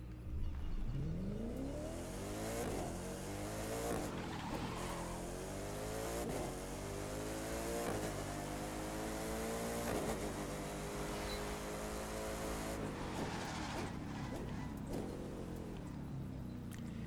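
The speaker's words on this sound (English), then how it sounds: "So as you can tell, it definitely sounds like a beefy car." A McLaren P1 hypercar in the video game The Crew 2 roars throughout, its engine revving up through rising pitch sweeps with repeated gear changes, loud and continuous with no talking.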